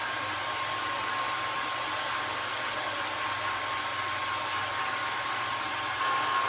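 A hair dryer runs continuously nearby, a constant airy roar with a thin motor whine underneath, steady and unbroken throughout.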